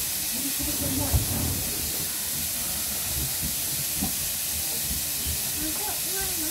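Steam hisses steadily aboard a train hauled by steam locomotive 73156, running from Loughborough Central toward Leicester North, with a constant broadband rush under faint low rumbling and brief knocks.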